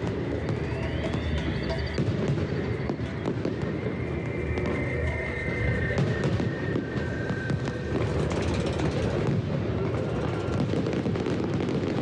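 Dense, continuous crackling and booming of Mexico's 2010 Bicentennial fireworks display, bursts overlapping steadily with a loud, rumbling low end throughout.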